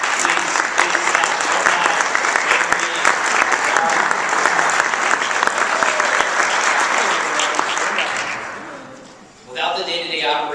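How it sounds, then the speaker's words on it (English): Convention audience giving a round of applause for staff at an insurance association's annual convention, loud sustained clapping that fades out near the end before a voice begins speaking. "If you guys can all stand up and give everybody a round of applause."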